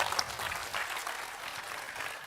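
An audience claps steadily and densely throughout a Javanese-Indonesian talk by Cak Nun, a full crowd applause without pauses.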